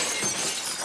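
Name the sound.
glass breaking in Telltale's The Walking Dead video game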